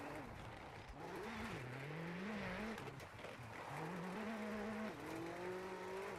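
A rally car engine in the video game WRC 8 revs steadily, its pitch rising and falling through gear changes, loud and continuous with a harsh whine over road noise.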